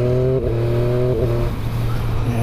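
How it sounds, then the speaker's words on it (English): A motorcycle engine, a Street Triple RS, revs hard under acceleration with quick shifter gear changes, the pitch climbing then dropping abruptly at two quick shifts amid wind noise. "Yeah, that's how a quick shifter should be."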